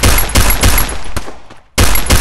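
Loud, close automatic gunfire in the Free Fire video game comes in rapid bursts, with a brief pause before a final burst.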